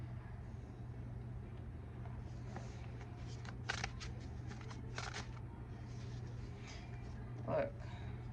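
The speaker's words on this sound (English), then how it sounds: "just shuffling the cards" Tarot cards being shuffled by hand, a few quiet riffling bursts heard close but faint over a steady low hum.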